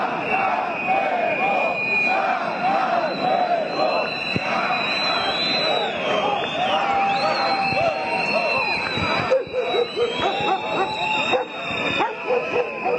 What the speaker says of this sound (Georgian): ისინი აგრძელებენ თავიანთ პროტესტს და შეძახილებით ამბობენ, რომ გაუმარჯოს საქართველოს